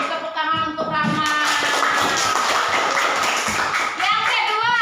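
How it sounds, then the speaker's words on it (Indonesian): Schoolchildren in a classroom clap their hands together in a loud, rapid burst that continues throughout, with children's voices and excited chatter mixed in. "Tepuk tangan untuk Rama."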